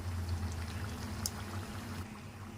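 Eggplant bajji frying in hot oil, a steady soft bubbling and sizzling fizz that carries on evenly with no talk over it.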